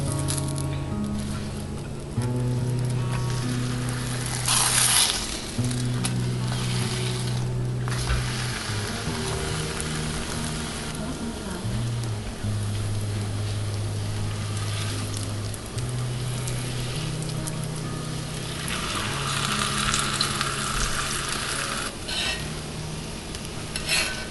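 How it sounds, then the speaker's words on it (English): Flatbread fries in a lightly oiled cast iron pan with a continuous close sizzle and crackle, joined by intermittent scraping and patting sounds, while background music plays underneath. "I'm just gonna add a touch of oil to this one and go in with my next flatbread."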